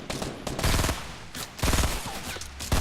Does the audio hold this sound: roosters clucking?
no